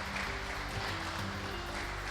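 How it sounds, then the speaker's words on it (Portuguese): A church congregation at a celebration service applauds, producing a dense, steady wash of many hands clapping, heard fairly faint and distant throughout with no talking. "Aplauda ao Senhor bem forte em nome de Jesus."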